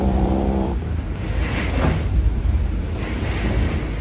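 Heavy, steady low rumble of Hurricane Grace in Tulum, broad roaring noise like surf and wind pressing on without a break, loud and close with no speech.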